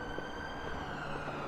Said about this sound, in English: the sound of distant sirens and street musicians filled the air